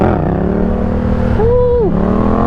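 A sport bike engine, ridden with no front wheel, drones loudly and close, with one quick rev that rises and falls midway.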